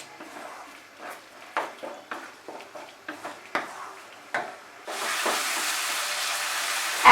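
Masala for potol korma, ground with melon seed paste, is stirred and scraped in a pan with scattered clinks and taps, then the flame is raised and a steady frying sizzle takes over for the last few seconds.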